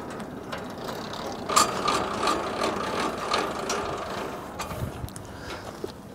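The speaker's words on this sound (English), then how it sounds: "Now we just wind our jack down till the back of the chute comes up" A jack on an Arrowquip Q-Catch squeeze chute being wound down, giving a steady run of mechanical ratcheting clicks at close range, moderately loud and continuous, with no talk.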